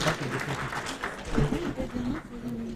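A hall audience at a National Institute Kuru project event applauds in recognition of a guest, a steady, moderately quiet rustle of many hands with a voice briefly sounding over it.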